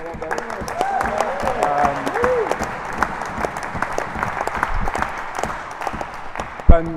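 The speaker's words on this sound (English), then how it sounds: "Ben Stevens, where are you? Big round of applause" Audience applause after the British Open Doubles 2023 rackets final, honouring tournament organiser Ben Stevens: a steady patter of many hands clapping for about seven seconds, with a few voices calling out near the start.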